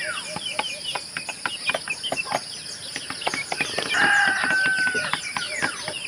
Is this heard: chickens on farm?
yes